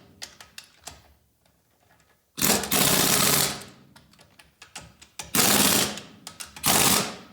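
Lug nuts on a Mercedes E320 wheel are tightened in a cross pattern: three loud, sustained mechanical rattling bursts of about a second each, separated by scattered clicks and quieter handling noises.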